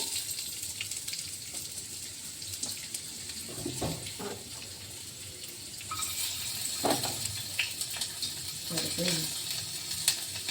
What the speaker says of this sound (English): onions fry అవనిద్దాం